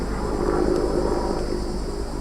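A helicopter passes overhead near a greenhouse, its engine and rotor a steady, loud, broad drone that holds constant throughout with no talk.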